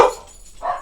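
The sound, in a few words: dogs barking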